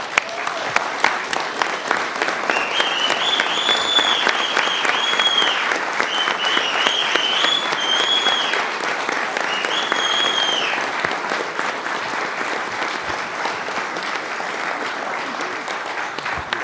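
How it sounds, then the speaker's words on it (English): A standing audience at a municipal council meeting applauds for over sixteen seconds, a loud, sustained, dense clapping with occasional cheers or whistles rising above it. "Can we all stand and give him a round of applause?"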